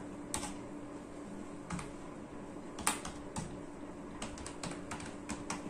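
Code typed on a computer keyboard, sparse clicks and short bursts of keystrokes with pauses between, fairly quiet and close, with no talking.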